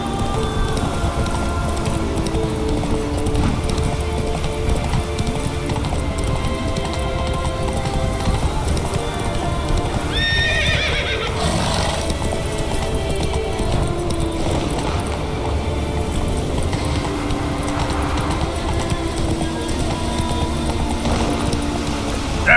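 Roach the horse in The Witcher 3 galloping, with steady rhythmic hoof clip-clops over a dense ambient bed, along with a brief neigh-like cry midway.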